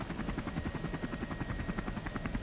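Helicopter flying over Punjab, its rotor giving a steady, fast thumping beat with a constant engine roar, close and loud throughout with no voices.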